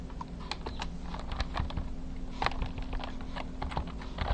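Rapid, irregular clicking of keys on a computer keyboard, heard up close and fairly quiet against a low steady hum, with no talk.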